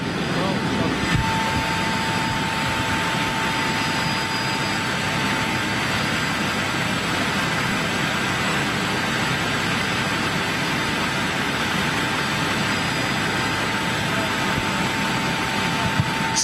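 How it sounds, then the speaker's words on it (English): Boeing 747 jet engines run steadily through a pushback, a continuous broadband roar with a high whine, loud and unbroken throughout, with voices faintly underneath. "if this is the first time you've seen a pushback of a 747 live"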